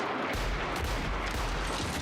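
A loud, booming gunshot blast with a deep rumbling tail, close and forceful, from the 2009 film Inglourious Basterds.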